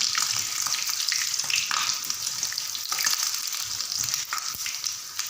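A piece of besan (gram flour) naan fries in hot oil, giving a steady, close sizzle with crackling bursts throughout and no talking.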